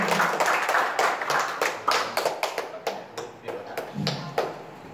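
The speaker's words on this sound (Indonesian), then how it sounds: "Berikan tepuk tangan yang meriah untuk" Audience applause at a speech event, fairly sparse individual claps tapping out unevenly, moderately close, with some talk-like sounds underneath and the clapping tapering off near the end.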